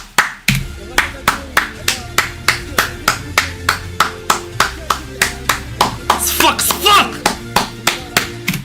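Steady rhythmic hand clapping, roughly two claps per second, loud and close, keeping an even beat throughout with a faint background tone underneath.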